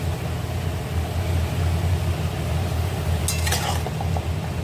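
Two medium chopped onions fry in a pan with a constant, fairly loud sizzle and a low hum beneath, plus a brief clink of utensil near the end; no one speaks.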